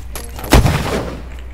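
A gas bomb explodes in the Minecraft Decimation mod, one sharp booming blast that rings out and decays, preceded by quiet game ambience.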